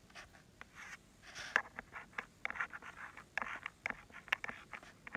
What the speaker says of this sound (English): I'm going to write that on the line